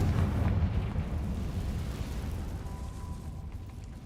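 A Confringo spell blast in Hogwarts Legacy sets off a deep rumbling explosion that starts loud and slowly rolls off over a few seconds, with no voices.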